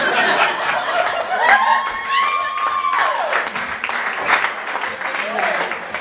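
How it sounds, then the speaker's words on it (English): An audience in a comedy venue applauds a comedian, steady clapping mixed with cheers and laughter. A host's voice talks over part of it, with one long called-out vowel near the middle. "Big round of applause, Sarah Lomanto."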